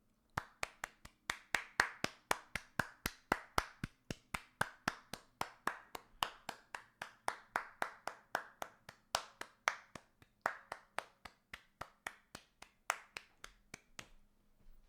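A single person claps steadily and alone, a long even run of sharp, close, evenly spaced claps lasting about fourteen seconds in a quiet room.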